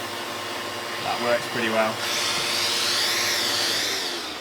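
A Stanley Fatmax cordless 18V multi-tool with a vacuum attachment whirs up and runs at a steady, close, loud pitch after someone speaks briefly.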